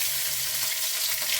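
Garlic, chili and ginger paste sizzling in hot oil in a kadhai, a loud, close, continuous hiss and crackle of frying with no speech.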